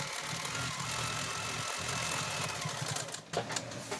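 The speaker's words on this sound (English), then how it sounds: "I just run my machine and I make it" A sewing machine runs continuously, free-motion quilting a vine pattern on a scrappy paper-pieced crazy quilt, giving a steady mechanical whir that briefly dips and picks up again near the end.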